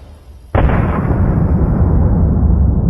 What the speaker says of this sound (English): a Ukrainian T-72 tank, which is a tank of Russian origin, is blown up on a Russian mine along with ammunition